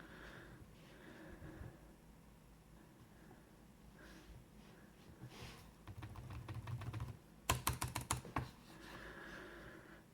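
Typing on a Sony BKB50 Bluetooth keyboard, with quiet scattered keystrokes at first, then a quick dense run of crisp clicks building louder near the end, close and alone with soft breathing between.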